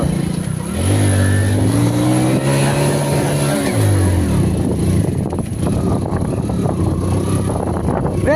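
A car drives slowly through shallow water on Talsari beach, its engine droning and rising and falling in pitch, with water churning and wind buffeting the microphone.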